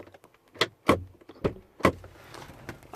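Inside a BMW F01/F02 door, a faulty lock actuator makes a series of sharp mechanical clicks and clunks, close and fairly quiet, spaced irregularly over a few seconds.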